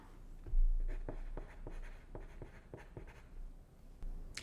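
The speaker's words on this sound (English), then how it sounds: "I'll write the word popcorn on the line." A pencil writes the word popcorn on a line on paper: a quiet series of short scratchy strokes in quick succession, close to the microphone, with no one speaking.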